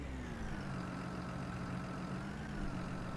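A tractor engine idles steadily in the farming video game Farming Simulator 19, a constant low rumble with a droning hum that holds at an even, fairly loud level throughout, with no voices over it.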